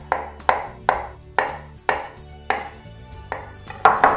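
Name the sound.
knife chopping avocado into pieces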